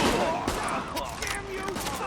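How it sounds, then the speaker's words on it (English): Video game gunfire bursts out in rough, dense volleys, loud and close, blended with other chaotic game sounds. "Keep firing at him."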